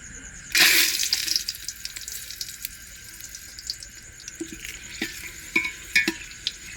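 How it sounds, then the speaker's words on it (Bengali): Whole dried red chillies and bay leaves hit hot oil in a cooking pot with a sudden loud hiss, settling into a steady softer sizzle broken by a few clinks and stirring sounds. "তেল গরম হয়ে গেছে এবার গোটা লঙ্কা আর গোটা তেজপাতা দিয়ে দেব"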